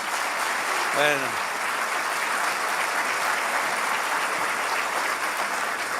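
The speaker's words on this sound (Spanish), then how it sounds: "¿Cuánto le dan un aplauso al Señor?" A church congregation applauding, sustained dense clapping filling the room for several seconds, with a voice briefly speaking at the start.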